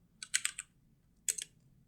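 Keystrokes on a computer keyboard come in two short bursts of quick taps, close and fairly quiet, with no talking.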